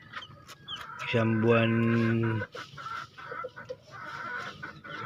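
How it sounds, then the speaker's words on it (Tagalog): Farm chickens and young chicks cluck and call nearby, including one loud sustained squawk and scattered peeps, while a person talks briefly. "ito yung mga sisiw ko"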